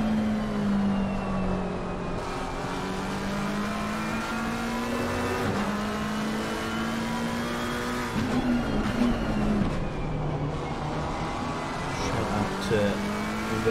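Race cars in Assetto Corsa Competizione running nose to tail in a close train at the Hungaroring, a steady, loud engine drone with gear changes and pitch shifts throughout, and commentators talking over it.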